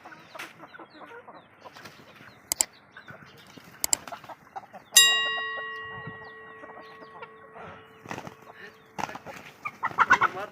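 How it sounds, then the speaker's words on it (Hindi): A rooster and hens of a prized breed clucking in a yard while they eat, with scattered soft clucks and a few sharp louder calls, including one long ringing crow in the middle. "देख लो दोस्त का मुर्गा है, मुर्गियाँ ज़बरदस्त नस्ल"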